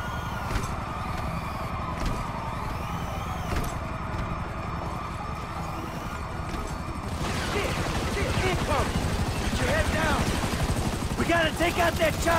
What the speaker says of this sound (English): Take out that chopper!